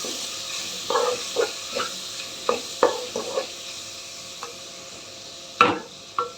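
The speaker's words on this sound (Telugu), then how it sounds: "సన్నగా కట్ చేసి పెట్టుకున్న టమోటాలు, 2 టమోటాలు పెద్దవి. ఇవి కూడా బాగా వేగనిద్దాం." Finely chopped tomatoes frying in a pan for a cauliflower curry, with a steady soft sizzle and several short scraping stirs of a spoon, one sharper clatter near the end, close and moderately quiet.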